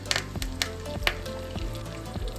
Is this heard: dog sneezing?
no